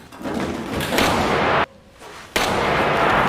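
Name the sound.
gunshot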